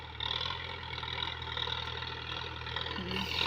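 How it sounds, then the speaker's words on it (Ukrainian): A small tractor engine runs steadily in a vegetable garden, a close, even mid-pitched drone that holds without break for the whole stretch. "Так працює наш тракторець"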